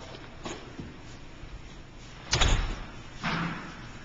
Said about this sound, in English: The door going into the warehouse.